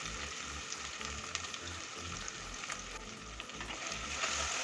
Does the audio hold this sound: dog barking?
no